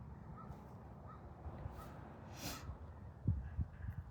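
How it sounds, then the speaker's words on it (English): A crow caws outdoors, a few harsh calls sounding at a moderate distance over a quiet background, with a short cluster of louder caws near the end. "Listen to the crow."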